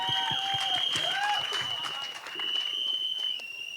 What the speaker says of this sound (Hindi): जैसा मैंने कहा, बंसल साहब के लिए एक बार जोरदार तालियां हो जाएं.